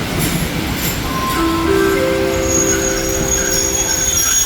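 A passenger train pulling into Ayutthaya station, a steady rolling rumble with a rising metallic wheel squeal and sustained tonal screech as the carriages brake, loud and continuous, with no talk over it.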